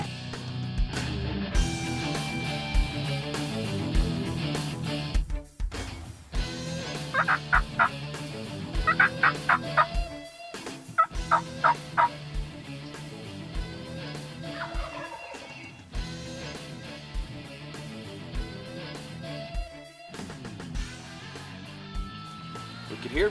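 Wild turkey gobbling in spring woods during a hunt, repeated loud rattling gobbles breaking through a steady layered background, some bursts close and strong, others farther off.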